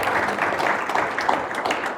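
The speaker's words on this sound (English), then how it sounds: "I think that's worth a round of applause." A live audience at a board game talk evening claps steadily throughout, a continuous close crowd applause with no pause.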